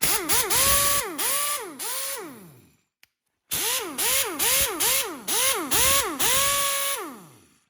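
An OEM Tools 1/2-inch air impact wrench runs in reverse in short repeated bursts, each a loud, close pneumatic whine that rises and falls, with a brief silent gap midway.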